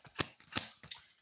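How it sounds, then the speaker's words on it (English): A deck of tarot cards is shuffled close by in three quick, soft riffling bursts with short pauses between them. "So let's shuffle these a little more."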